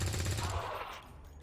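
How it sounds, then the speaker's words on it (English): Rapid machine-gun fire in a video game, a dense burst of close, loud shots for about half a second that then fades into a quieter rumble of distant gunfire. "a little bit less gunfire coming our direction."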